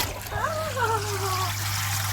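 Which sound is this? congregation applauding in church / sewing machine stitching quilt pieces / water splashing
water splashing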